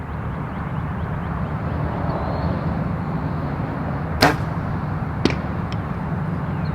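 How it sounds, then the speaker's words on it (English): A Magnus Black Hornet broadhead arrow, 125 grain, is shot at a target, giving a sharp impact crack followed by a second fainter hit, heard over a steady loud outdoor wind-like rush. "First I'm going to shoot the Magnus Black Hornet, and then I'm going to shoot a field point."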